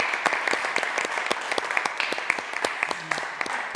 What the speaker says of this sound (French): alors on peut applaudir pour vous, Chris, on peut applaudir.